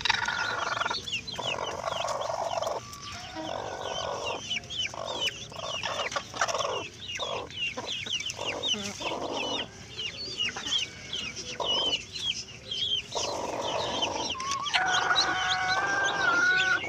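Newborn native country chicks that have just hatched from eggs give continuous high, rapid peeping. Lower clucks from adult fowl mix in close by, and no one speaks.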